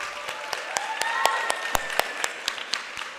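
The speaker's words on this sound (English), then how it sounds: "Please give them a round of applause" An audience gives a round of applause at a live-streamed event, a short burst of scattered, fairly close individual claps with a faint murmur of voices beneath.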